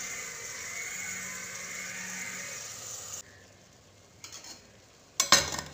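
Rice being stirred in a pressure cooker for matar pulao with half a cup of water: a steady wet scraping and sizzling hiss for about three seconds, then quieter, with a few brief clatters of the spoon near the end.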